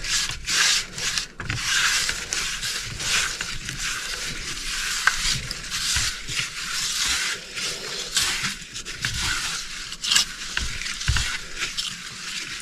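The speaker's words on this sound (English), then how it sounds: "Big old dollop of butter and just grease it with my hands." Butter being smeared by hand across a pizza pan, a steady close-up rubbing and squishing with soft sticky smacks, continuous throughout.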